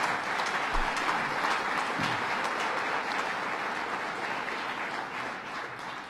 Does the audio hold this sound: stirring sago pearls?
no